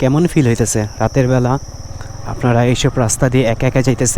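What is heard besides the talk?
crickets chirping at night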